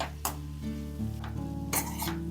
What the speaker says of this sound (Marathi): आता भाजी छान सगळी या मसाल्यांमध्ये मिक्स करून घ्यायची आहे